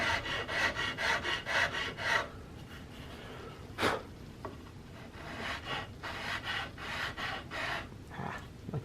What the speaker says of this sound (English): I'm just angling that file up and out